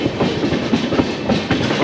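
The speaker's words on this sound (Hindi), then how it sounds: "और ये आ गई अजमेर एक्सप्रेस, दुर्ग अजमेर।" Durg–Ajmer Express pulling into a station, with a steady loud rumble and wheels clacking over rail joints at close range.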